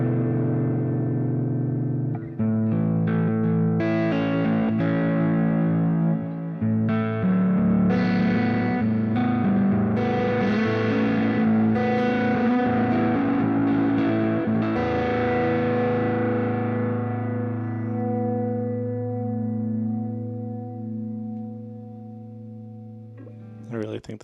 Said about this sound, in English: let's play around a little bit with it, just to show you kind of the dynamics and how the amp breaks up real nice